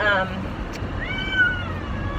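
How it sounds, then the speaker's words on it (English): A house cat gives one short meow near the middle, mid-loud over low background rumble and faint voices while the animals are being moved indoors at a small farmhouse. "I'm going to get the cats situated inside"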